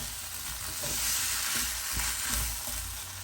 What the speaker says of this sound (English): Give this all a really good mix.